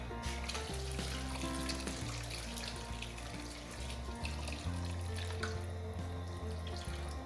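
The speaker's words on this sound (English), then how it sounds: "and then we're gonna add some more hot water." Hot water pours into a cooking pot on high heat for a stew, a continuous close splashing and gurgling with no talk.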